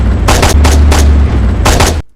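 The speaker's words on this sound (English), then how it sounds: "You can only make out the gun because it has so much noise" Loud bursts of gunfire in the game ArmA 3, several rapid volleys over a constant low rumble, cutting off abruptly at the end.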